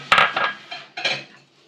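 A spoon mixes potato kabab batter with onion and flour in a bowl, giving a couple of short, close scraping clinks that fade to silence.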